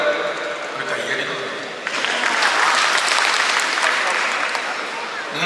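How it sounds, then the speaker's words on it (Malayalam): An audience at a Malayalam film launch ceremony applauds steadily, a dense wash of clapping that swells after a couple of seconds and carries on without a break. "ഒരു കയ്യടി"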